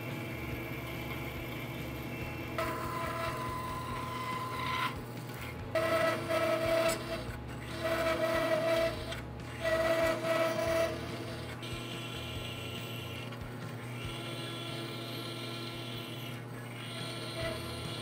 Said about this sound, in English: let's go to the bandsaw and we'll do some cutting.